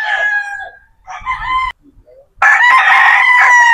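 A green-legged gamecock rooster crows loudly and close, breaking off into a few clucks and a short pause before a second full crow.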